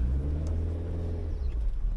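A car creeps forward slowly on a learner's driving lesson, its engine giving a steady low rumble close by with no talk over it.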